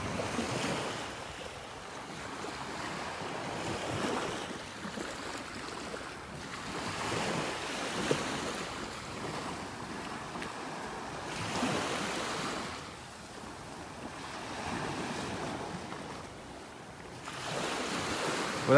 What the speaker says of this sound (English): these little waves have the bottom churned up a little bit.